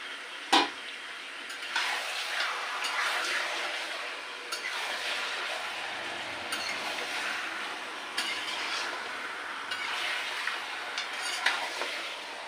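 Mutton with spices being stirred and sautéed in a pan, a continuous close sizzle and frying hiss broken by repeated scrapes and clinks of a spatula against the pan, one sharp knock near the start.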